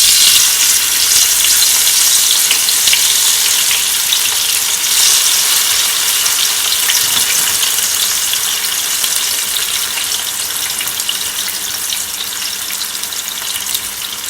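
Tomato, onion, garlic and spring onion fry in hot oil for Jamaican seasoned rice with sardines, a loud, dense, unbroken sizzle heard up close and alone, fading only slightly over the stretch.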